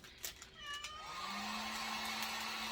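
A pet cat meows close by, a couple of short chirping calls leading into one long drawn-out rising meow that holds steady to the end, no talk over it.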